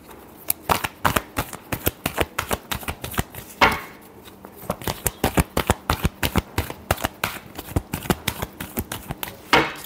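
Tarot cards are shuffled by hand in quick rhythmic bursts of crisp riffling clicks, close and clear, with a brief pause near the middle before the steady shuffling resumes.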